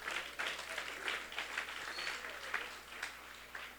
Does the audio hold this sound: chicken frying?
no